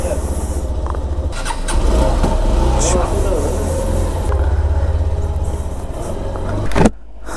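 A motorcycle engine starts and runs close by as the bike is maneuvered out of a tight spot at a Kurseong homestay, a steady rumble with a brief squeal and a sudden cutoff near the end.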